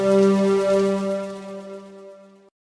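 A space chord synth patch with a quarter-note stereo delay holds a sustained chord, its repeats shimmering and gradually thinning before stopping abruptly.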